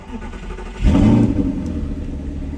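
A warm V8 car engine cranks and catches with a sudden low roar, then settles into a steady rumbling run; no talking.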